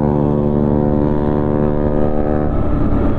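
Motorbike engines drone steadily and up close as riders without helmets race along a road, with the tone turning rougher and busier toward the end.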